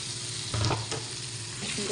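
Fish fries in a pan with a brief, fairly quiet, steady sizzle and a faint scrape or two, lasting under two seconds.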